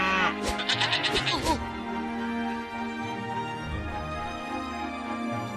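Sheep bleat loudly and close in a quick wavering burst, then a steady murmur of background sound continues.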